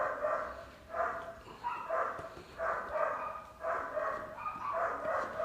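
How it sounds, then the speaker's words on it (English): Several excited dogs bark in quick, repeated bursts at a moderate distance, with fairly faint, regular yelps and no talking over them. "The dogs are so excited."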